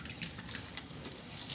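Running water splashes steadily as hand-washed clothes get their final rinse, a continuous hissing wash with small irregular splashes throughout.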